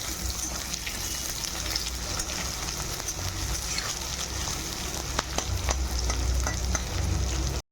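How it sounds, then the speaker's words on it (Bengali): Chopped onions sizzle and crackle in hot oil in a wok while being stirred, a steady dense frying hiss with scattered sharp pops and spatters running throughout, close and fairly loud. "তো পেঁয়াজটা এবার লাল করে ভেজে নেব"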